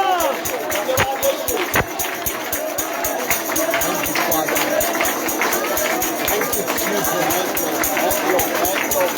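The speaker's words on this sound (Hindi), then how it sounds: "जोरदार तालियां यीशु मसीह के नाम के लिए" A Hindi Christian prayer congregation bursts into enthusiastic applause, many hands clapping together in a dense, continuous patter, with crowd noise and voices mixed in.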